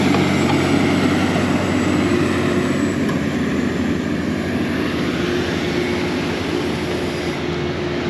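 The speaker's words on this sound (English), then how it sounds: "push-up tractor here." A heavy tractor engine pushing haylage into a bunk drones steadily and loudly at close range, a continuous low mechanical roar with no voices.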